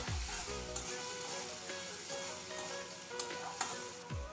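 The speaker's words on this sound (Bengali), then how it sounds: "এই ছোলার ডালটা দিয়ে আমি আর একটু ভেজে নেব।" Chana dal frying in a pan for a Bengali bhindi chorchori, a soft steady sizzle with a few brief scrapes and light clicks, faint and close, no speech.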